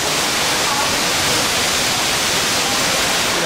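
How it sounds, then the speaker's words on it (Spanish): Heavy monsoon downpour in Southeast Asia drums down as a steady, dense wash of rain, with a small waterfall rushing close behind, loud and unbroken throughout with no gaps. "Fíjate la cascadita que tenemos justo detrás."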